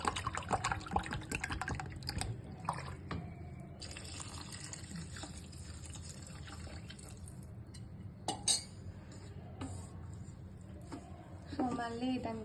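Water is poured from a glass into raw rice for vegetable pulao, producing a soft, quiet splashing and trickling with a few light clinks, while a voice talks faintly in the background.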